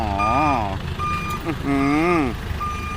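A Nissan dump truck's reversing beeps repeat steadily over a rumbling engine, with a warbling electronic tone sweeping up and down as the truck backs up.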